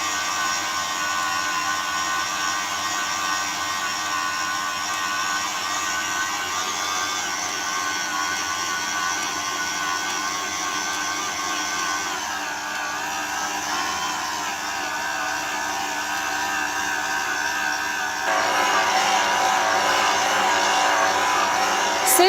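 A Fakir Thorplex kitchen mixer kneading dough runs with a steady whining hum, shifting pitch midway and growing louder near the end, with no voices.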